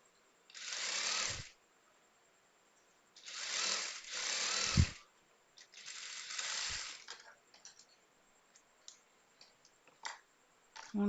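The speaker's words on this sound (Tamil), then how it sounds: "மூணு பீஸ் அடிச்சிட்டோம், இன்னும் ஒரு பீஸ் அடிக்கணும்." A sewing machine stitches a pillow cover in several separate bursts of rapid mechanical chatter, close and fairly quiet, with pauses and small clicks and handling sounds of fabric between runs.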